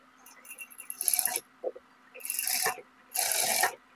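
A sewing machine stitches cloth beside piping thread in short mechanical bursts, with three main runs of quick rattling stitching separated by brief pauses, close and fairly clear with no talking.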